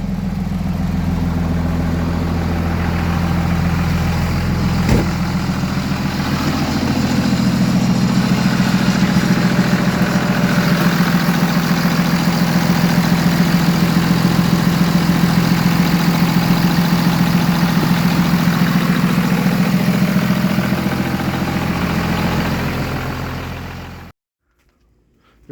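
Cummins diesel engine idling in an M-715 donor truck with about 340,000 miles, a loud, steady low rumble held close for over twenty seconds before cutting off abruptly near the end.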